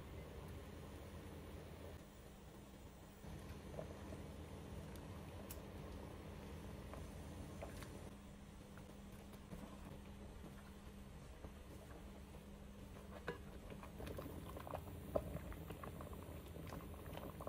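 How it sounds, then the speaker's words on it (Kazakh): Beshbarmak dough dropped into broth boiling hard over high heat, giving a steady, fairly quiet rolling bubble that stays even throughout with no talking. "қатты отта қайнап тұрған сорпаға біртіндеп сала бастаймыз"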